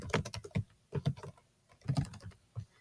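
Keys clatter on a computer keyboard as a name is typed, bursts of quick close taps with short pauses between, clear and without speech.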